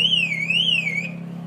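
A car alarm goes off at an indoor motor show, a loud warbling electronic siren that rises and falls for about a second over a steady low hum, then cuts away.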